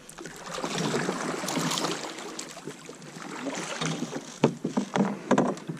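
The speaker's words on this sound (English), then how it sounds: "Get ready to back paddle real quick." Paddle strokes splash and swirl as a fishing boat is backed up on water in the evening, close rustling water sounds with a few sharper splashes toward the end.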